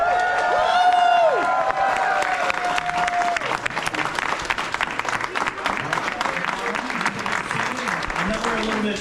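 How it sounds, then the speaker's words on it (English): An audience at a student-of-the-month award ceremony gives a round of applause, dense clapping that carries on throughout with voices and some tonal sounds mixed over it. "Shall we give these guys one more big round of applause?"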